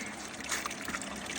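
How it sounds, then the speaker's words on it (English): Water poured over scooped river gravel in a classifier while working material for gold, a steady close trickling and splashing wash throughout with no talk. "I'm putting one scoop in, and then I'm putting in the water, classifying."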